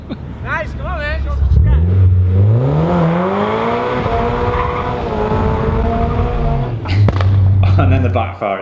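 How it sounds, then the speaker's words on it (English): Boosted Mazda MX-5 NC engine revving hard, rising and falling in pitch with loud sustained roar, then dropping off with sharp cracking backfire pops at the end, close and loud. "And then the backfire at the end."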